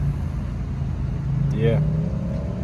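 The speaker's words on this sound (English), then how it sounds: "Driving home" A car driving home along a road at dusk, its steady engine and road rumble filling the whole stretch, with a brief voice speaking over it near the middle.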